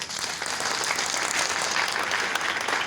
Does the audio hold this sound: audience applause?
yes